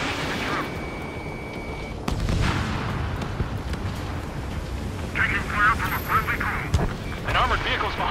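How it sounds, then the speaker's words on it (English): Gunfire and explosions during an Ace Combat 7 aerial battle at a bridge blocked by a tank, with heavy rumbling blasts and jet noise under radio voices. "We're taking fire!"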